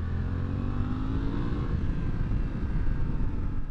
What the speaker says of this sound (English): you're hearing what I hear in my helmet. I don't hear much from this engine once I get up above speed